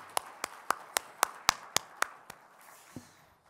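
A small number of church worshippers at a New Year service give a short round of applause: about nine distinct, evenly spaced, crisp claps, then a faint tap or two as it fades.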